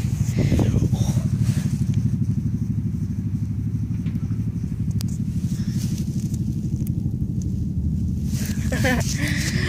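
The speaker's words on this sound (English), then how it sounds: "Did you hear a bike? Vroom, vroom!" A motorbike engine drones steadily and fairly loud throughout, passing by near a park, with brief rustles and clatter on top and no talk during the sound.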